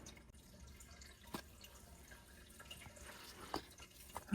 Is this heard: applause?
no